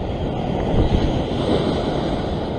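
Sea waves rushing onto the shore during sea fishing, a loud, broad roar of surf mixed with buffeting wind on the microphone, continuous and close with no speech.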